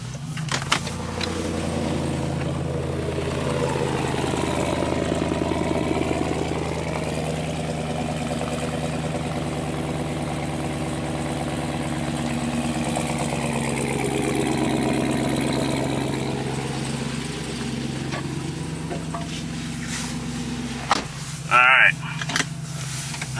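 A Jeep Gladiator fitted with a 707-horsepower Hellcat engine rumbles steadily as it drives around the block, a deep continuous engine drone from close inside the cab, with a person talking over it and a brief clatter near the end.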